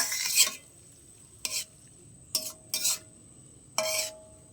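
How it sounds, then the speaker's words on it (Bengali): Potatoes simmering with spices in a pan are stirred in several short scraping bursts separated by quiet pauses, with no talking. "এবার ভালো করে একটু 5 মিনিট মতন ফুটিয়ে নেবো, আলুটা একটু সিদ্ধ হয়ে যাবে।"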